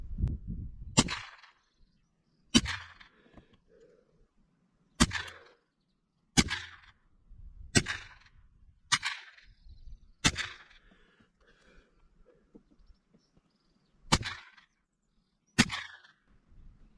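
Nine sharp .22 LR rifle shots from a Ruger firing Blaser standard-pack ammunition ring out at irregular intervals of one to four seconds. Each crack is loud and close, with a short decaying tail and silence between.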